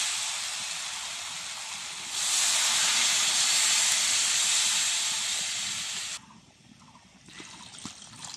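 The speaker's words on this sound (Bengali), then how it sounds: "এবার আমি জল ঢেলে দিচ্ছি" Water poured into a hot pan of jackfruit and prawn curry gives a loud, steady steaming hiss that swells after a couple of seconds, holds, then cuts off sharply into quieter bubbling.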